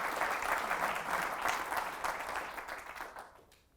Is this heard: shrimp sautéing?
no